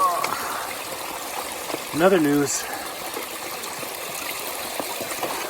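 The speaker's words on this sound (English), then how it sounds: "And it's flowing water too" Flowing stream water in dry wasteland along the Pacific Crest Trail in Northern California gives a steady, moderate rushing wash throughout, with a brief spoken voice near the middle.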